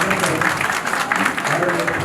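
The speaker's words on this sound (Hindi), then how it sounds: "एक बार जोरदार ताली बजा करके आपको" Loud applause from an audience at a welcome and felicitation ceremony, a dense steady patter of many hands clapping throughout, with a few voices underneath.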